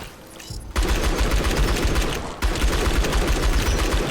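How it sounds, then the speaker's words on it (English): The scattershot weapon in the shooter game Outpost: Infinity Siege fires in two loud, rapid bursts of densely packed shots, with a short pause between them. No one speaks. "Gives me more chance to test out my scattershot"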